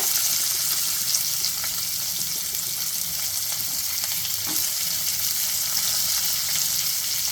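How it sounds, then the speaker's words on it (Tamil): Onion frying in hot oil with cashews and lentils for vermicelli upma gives a steady, loud, close sizzling hiss that runs unbroken throughout, with no voices. "பருப்பு சிவந்த உடனே வெங்காயம் போட்டுக்கோங்க."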